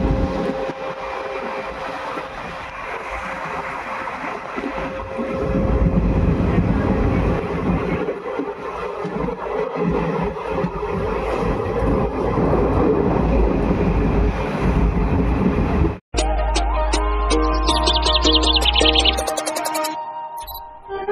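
A moving passenger train heard from inside a carriage gives a steady, loud rumble with rhythmic rail clatter, before a sudden cut to a quieter, different scene near the end.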